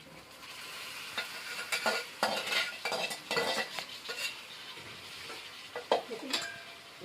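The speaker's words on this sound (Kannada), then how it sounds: "ಇವಾಗ ಇದಕ್ಕೆ ನಾ ಕುದಿಸ್ಕೊಂಡಿದ್ದು ಕುಂಬಳಕಾಯಿ ಹಾಕೋತೀನಿ ನೋಡ್ರಿ." Boiled green pumpkin is stirred in a hot pan for a village-style palya, with a spoon scraping and clanking in irregular strokes over a soft, steady sizzle, close and alone.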